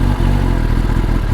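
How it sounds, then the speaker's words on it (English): A motorcycle engine fires up and settles into a loud, steady idle right beside the microphone, with a quick mechanical clatter at the start. "and the bike is started"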